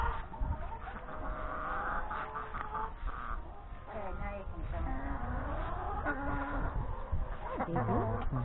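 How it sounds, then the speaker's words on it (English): Chickens clucking and calling around a farm outbuilding, close and fairly loud, with a child and an adult talking throughout. "Play with the chickens."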